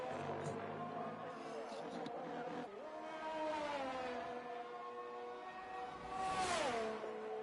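Race car engines from a racing video game set at the Belgium circuit whine at high pitch, rising and falling through gear changes, under a commentator's steady speech.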